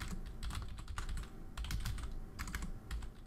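Rapid typing on a computer keyboard, close and steady, with bursts of clicking keystrokes running through the whole stretch with no voices.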